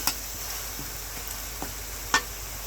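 Turmeric-and-salt-marinated pabda fish sizzling in hot oil, a steady moderate crackle with a few sharp pops and spits scattered through.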